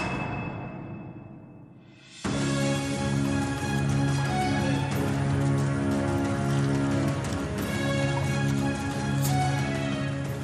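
Steady rain falls in Nadia, West Bengal, pattering densely on surfaces after a quiet start, then holding loud and unbroken to the end.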